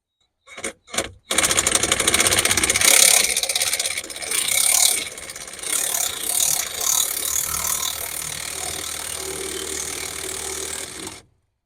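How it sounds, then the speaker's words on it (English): Impact wrench working on the slack adjuster of a B Model Mack truck's maxi brakes: a couple of short bursts, then a loud sustained rattling hammering run lasting about ten seconds, close and alone. "Let me get that impact, see if we can pull it out."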